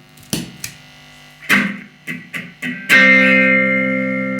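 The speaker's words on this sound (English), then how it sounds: "Let's go on to the phaser pedal." Electric guitar run through a Tone City phaser pedal, a few picked notes and short stabs ending on a loud sustained chord that rings out and slowly fades, with a shifting swirl in the tone.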